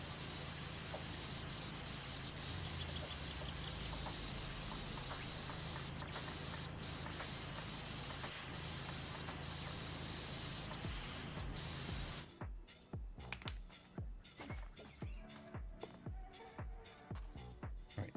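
A pressure washer with a short extension and yellow nozzle sprays continuously in Powerwash Simulator, making a dense, steady hiss for about twelve seconds. It then breaks into short, rapid bursts of spray.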